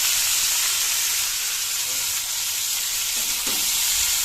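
Half-fried onion and vegetables sizzle in a pan, a dense constant hiss with faint scraping of stirring, close and loud, with no talking.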